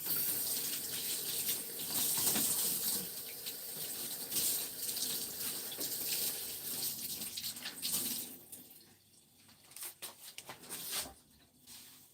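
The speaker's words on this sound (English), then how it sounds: "I'm going to wash my hands quickly." Hands are washed under a running kitchen tap, a loud, steady gush of water splashing in the sink that fades and breaks up near the end as the flow is shut off.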